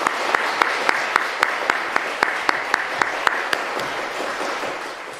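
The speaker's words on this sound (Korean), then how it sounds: "다시 한번 뜨겁게 박수하겠습니다." A church congregation at a Korean early-morning family prayer service claps warmly, a roomful of hands with several sharper individual claps ringing out at a steady pace over a continuous patter.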